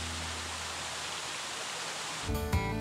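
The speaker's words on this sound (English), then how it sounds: "I push this button right here and all of a sudden there's a waterfall" Backyard pool waterfall in a Texas home, a steady, fairly faint rushing wash of falling water that keeps running throughout, with a couple of brief louder splashes near the end.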